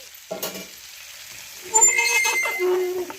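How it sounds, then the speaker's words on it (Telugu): A spoon scrapes and stirs masala corn with cheese, Maggi masala and chili powder in a bowl, a few soft close-up scraping strokes with light clinks in a quiet kitchen. "ఇలా కలిపేసుకోవాలి. మొత్తం మ్యాగీ మసాలా, కారం అంతా ఈ చీజ్లోకి ఇంకిపోవాలి."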